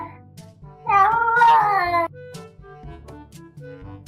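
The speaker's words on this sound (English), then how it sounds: "Can anyone translate what this cat is saying for me?" A pet cat gives one loud, drawn-out meow with a rising and falling pitch, close to the listener. Short soft chirps and murmurs come before and after it in an otherwise quiet room.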